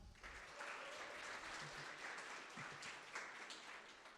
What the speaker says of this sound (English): One more big round of applause for the Sheffield DM team